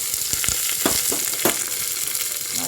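Onions fry in a hot pan, a close, soft, continuous sizzle broken by a few scraping stirs.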